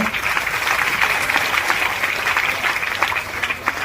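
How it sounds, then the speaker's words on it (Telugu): A church congregation at a New Year Mass claps loudly and steadily, a dense wall of applause filling the hall for several seconds, with faint voices mixed in. "అందరు గట్టిగా చప్పట్లతో"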